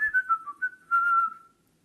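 A spider in a French read-aloud children's storybook whistles a short, bright tune alone, a few wavering notes ending in one long sustained tone.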